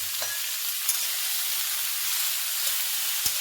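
Bottle gourd tipped into hot oil with fennel seeds, a loud continuous sizzle and hiss close by with a few knocks of stirring, no voices.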